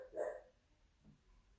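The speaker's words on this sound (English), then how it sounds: "Don't know if you guys can hear my dog in the background." A dog barks once, faint and in the background of a quiet room during a home yoga class, followed by a softer second sound a moment later.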